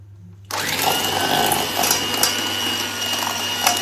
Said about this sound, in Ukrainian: додаємо до яйця цукор, і я буду перемішувати е, знову міксером.